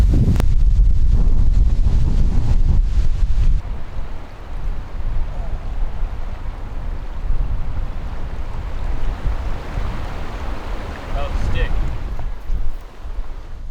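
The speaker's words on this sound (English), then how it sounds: "Windy." Strong wind buffets the microphone beside a remote mountain trout stream, a loud continuous low roar with gusty surges throughout, heaviest in the first few seconds, while a faint voice calls out briefly at the start.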